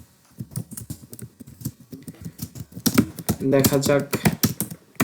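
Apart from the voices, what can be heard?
typing on a computer keyboard during a typing test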